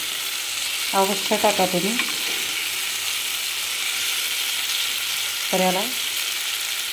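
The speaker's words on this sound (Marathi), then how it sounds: "तर त्यासाठी एकदम हलक्या हाताने त्याला परतून घ्यायचं" Shredded cabbage and peas coated with besan are stir-fried in a pan, giving a continuous soft sizzle with scraping stir strokes. A person talks over it in two short bursts.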